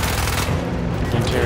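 A burst of rapid gunfire from the video game Battlefield 1, loud and close, with dense overlapping shots filling the whole moment.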